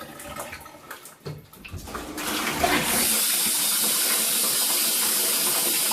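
Water sprays steadily from a Waterpik 14-spray shower head in a bathroom, building from spattering bursts into a loud, continuous hiss that holds to the end. No one talks.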